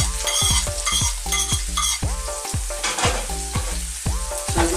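Leeks, carrots and sage frying in olive oil, a bright continuous sizzle close up with repeated rhythmic clinks and scrapes of a utensil stirring the pan, no talking.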